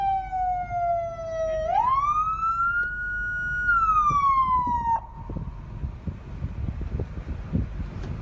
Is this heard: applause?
no